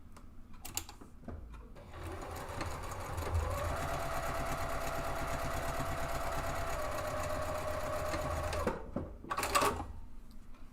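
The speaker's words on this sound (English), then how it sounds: "I'm just aligning the edges and stitching seam to seam." Sewing machine running steadily, stitching the fabric side walls of a two-way divided caddy seam to seam, a continuous near whir lasting about seven seconds with handling clicks before and after.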